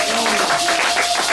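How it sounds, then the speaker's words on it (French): A church congregation claps together in praise, a short burst of dense, close applause with a voice briefly audible beneath it. "Applaudissons pour le Seigneur."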